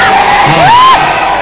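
Crowd at a live show in Jaipur whooping and cheering loudly, with one rising and falling whistle-like whoop standing out above the steady roar.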